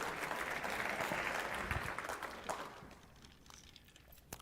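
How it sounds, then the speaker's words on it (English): Audience at a 2022 State of the City address claps, a brief round of applause that fades out after a few seconds, heard fairly faint and distant in a large room. "That was who was clapping."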